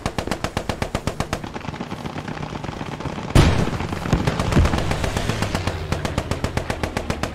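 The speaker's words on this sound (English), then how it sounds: "MG, keep suppressing that hill where we blew up the tank." Sustained machine gun suppressing fire in the Post Scriptum video game, a steady stream of rapid rhythmic bursts throughout, with a louder, heavier blast about midway and continued firing after.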